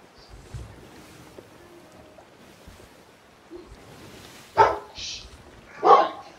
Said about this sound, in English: You dumb dog. Come here.